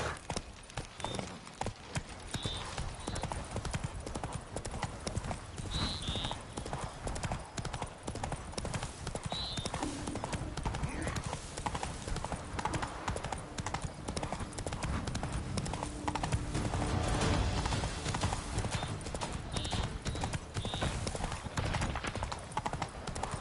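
Roach the horse trotting in The Witcher 3, hooves clip-clopping in a steady, even rhythm that carries on throughout, close and fairly loud over soft background game ambience.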